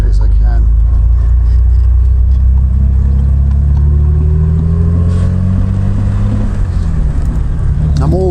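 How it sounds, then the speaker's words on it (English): A 1967 Triumph Vitesse's engine rumbles loudly and deeply through a stainless steel sports exhaust, the note rising and falling as it revs, with a voice talking over it. "the stainless steel sports exhaust on this car is particularly noisy"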